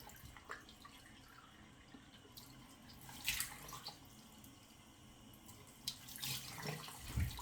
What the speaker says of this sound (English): let me turn on cold water